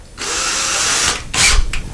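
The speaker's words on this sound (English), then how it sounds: "we drill very slowly into that hole that you previously made" Power drill boring slowly into a pre-made hole in drywall for a drywall anchor, a loud steady whine for about a second, then a pause and a second short burst.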